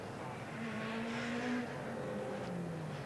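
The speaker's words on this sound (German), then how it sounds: "Die Fahrzeuge sind bereits auf dem Weg zurück in die Start- und Zielgerade." Touring race cars from the 1995 STW (German Super Touring) championship at the Salzburgring roll back toward the start-finish straight, their engines droning steadily at a distance, with a rising and falling pitch as they pass.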